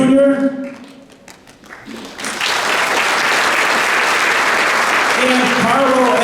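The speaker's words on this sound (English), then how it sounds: "So let's give a nice round of applause if they would come forward." Applause breaks out from the audience at a Derby inauguration ceremony, beginning after a brief stretch of a voice talking and holding as a loud, dense, steady wash of clapping to the end.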